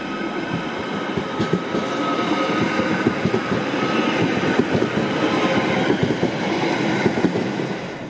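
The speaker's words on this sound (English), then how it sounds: "The current trains at the time of this video are soon to disappear from the line through Formby." A Merseyrail electric train, a Class 507 or 508 unit, runs along the line through Formby with a continuous rolling rumble and rhythmic wheel clicks over the rails, heard steadily throughout.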